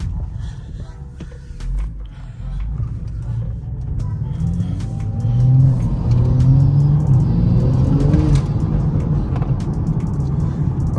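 A cheap Skoda Fabia with a misfiring engine drives along, its low rumbling engine note rising in level partway through, with faint creaks over the steady road noise.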